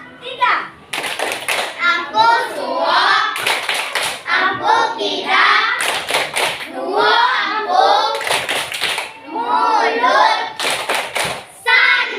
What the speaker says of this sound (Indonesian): kita beri tepuk tangan dulu untuk kelompok ulet